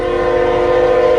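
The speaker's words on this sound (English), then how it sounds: "This is the 5th train today" A westbound Union Pacific freight train on the Transcon line sounds its horn loud and steady in a snowy winter storm, one sustained close blast throughout.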